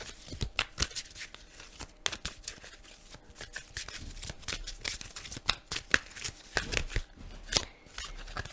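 Rapid, irregular riffling and snapping of tarot or oracle cards being shuffled close by, in repeated bursts with short pauses, no talking.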